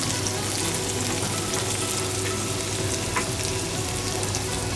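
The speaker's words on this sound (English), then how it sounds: "we're going to temper some sliced onions and some cinnamon in a little bit of oil" Sliced onions and cinnamon frying in a little oil for a Sri Lankan squid curry, a loud, dense and constant sizzle close up with faint occasional stirring, no voices.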